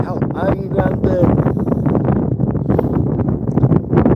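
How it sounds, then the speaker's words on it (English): Strong outdoor wind in London buffets the microphone with loud, ragged low-frequency rumble, gusting continuously while a person talks over it. "it is really windy"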